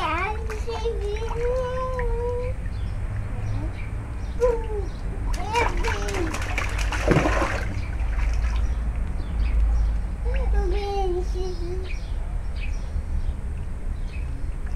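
Water splashes steadily in a swimming pool as a child plays, a constant close wash of sloshing under an adult's voice and someone talking, with a burst of heavier splashing partway through.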